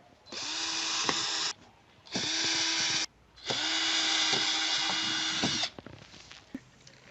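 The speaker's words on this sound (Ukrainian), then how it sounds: "Тепер просверлимо отвіри для шурупів." A power drill boring screw holes into a window frame, running in three sustained bursts separated by short pauses, close and loud with no talking.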